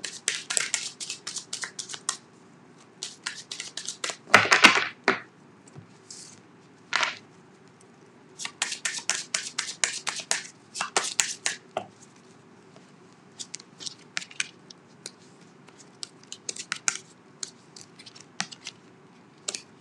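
Tarot cards being shuffled close up, in repeated quick papery riffles and snaps arriving in irregular bursts separated by short quiet gaps.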